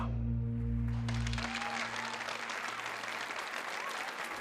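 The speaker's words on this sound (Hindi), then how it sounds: "धमाकेदार तालियों के बीच" Thunderous applause sound effect in a narrated Hindi audio story: loud, dense, sustained clapping swells in after a brief tonal opening and fills the rest of the stretch.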